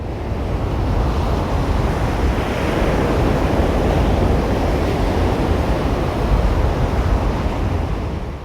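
Ocean waves roll onto a beach near the Bungala River mouth on the Fleurieu Peninsula, a loud, continuous roar of surf with wind buffeting throughout and no voices.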